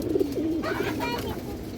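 Pigeons coo in low, throaty rolls at close range, a pen of fancy breeds such as Muslodom and Pakistani Kaldom, with someone talking over the steady cooing.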